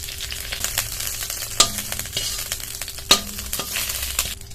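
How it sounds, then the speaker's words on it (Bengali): A curry leaf frying briefly in leftover oil at the side of a pan, with a crackling sizzle and stirring, punctuated by a couple of sharp utensil clanks against the pan. "এবার এই সাইডে বাকি যে তেলটা ছিল এর মধ্যে একটা কারি পাতা নিয়েছি। কারি পাতাটা হালকা ভেজে তুলে নেব।"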